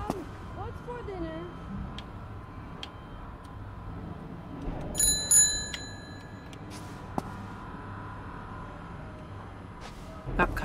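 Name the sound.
bicycle bell ringing in the video game Unholy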